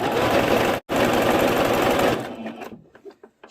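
Sewing machine stitching fabric pieces of a skirt, running loud and steady with one brief pause, then slowing into a few short, separate bursts.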